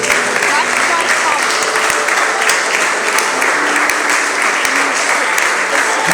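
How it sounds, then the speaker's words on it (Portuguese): Congregation in a church service applauding steadily, a dense, loud wash of clapping from many hands that continues unbroken throughout, with some voices mixed in beneath. "Aplauda o Senhor em nome do Senhor Jesus."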